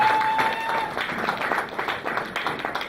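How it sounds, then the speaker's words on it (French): A church congregation claps and cheers to acclaim the Lord, a steady moderate wash of applause and crowd voices with a faint tone at the start. "Est-ce qu'on peut acclamer très fort le Seigneur?"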